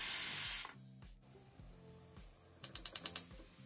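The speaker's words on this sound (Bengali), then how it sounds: "এখনই কুকারটা খুলবো না, পুরো স্টিমটা বেরিয়ে গেলে তারপর খুলছি" Steam from a pressure cooker holding mutton curry hisses loudly for a moment and then cuts off, followed by faint clatter and a quick run of light clicks.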